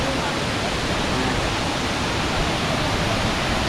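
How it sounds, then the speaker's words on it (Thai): Tat Kuang Si waterfall near Luang Prabang, Laos, roars in a steady, dense wash of rushing water, loud and close, with no break across the whole stretch. "น้ำตกตาดกวางซีนะครับ"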